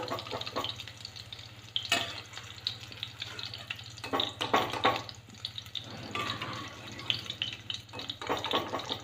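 Soya chunks fry in hot ghee in a pan, with a steady close sizzle broken by scraping stir strokes and occasional clinks of the spoon against the pan, with no voice heard.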